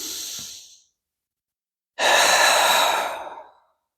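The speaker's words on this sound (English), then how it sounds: "Big deep breaths, breathing in" Deep yoga breathing: a short exhale trailing off, a pause of silence, then one long, full breath of air rushing out, close and clear with no talk.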